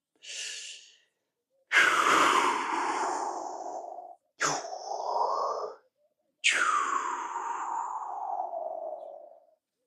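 Slow, deep breaths in and out, several long airy inhales and exhales separated by short pauses, close and fairly quiet with no talking.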